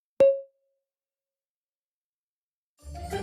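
A single short bright marker tone pings once and decays quickly, used as a data sonification marker for a volcano inflation threshold in seafloor bottom pressure data, followed by silence and then a rising noisy swell.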